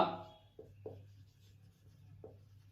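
Chalk or marker scratching on a board during a physics lecture on collisions, a few short separate strokes at moderate level over a low steady room hum.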